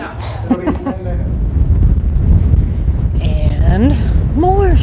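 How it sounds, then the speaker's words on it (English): Strong gusty wind buffets the microphone at Meteor Crater in Arizona, a loud continuous roar, with a person speaking at the start and end. "it is super windy out here"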